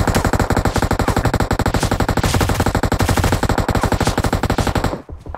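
Sustained rapid automatic fire from a UMP submachine gun in PUBG Mobile, a dense unbroken burst of loud shots lasting about five seconds before cutting off abruptly.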